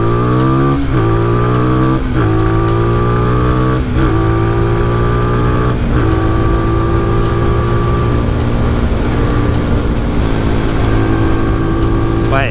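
An SWM Ace of Spades 125 motorcycle launches from a standstill, its engine revving hard through several rising sweeps with brief dips at each gear change, loud and close throughout.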